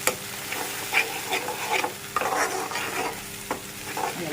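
A tamarind and chili chutney cooks down in a pan, sizzling steadily while a spoon stirs and scrapes through it in irregular strokes, heard up close with no talking.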